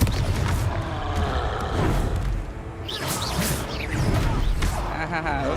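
A Confringo fire spell bursts in Hogwarts Legacy, a loud blast with whooshes and crashing impacts over busy combat noise, with a voice speaking in the middle of the fight.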